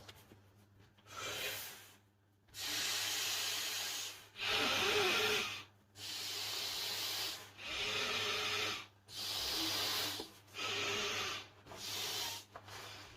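Air rushing through the valve of a Sea To Summit Comfort Plus self-inflating sleeping mat, a soft breathy whoosh repeated in about eight steady bursts with short pauses between, close and fairly quiet.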